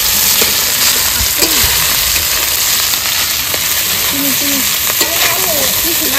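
Rice frying in a pan for duck fried rice: a steady, loud sizzle with stirring and scraping throughout. Voices talk faintly underneath.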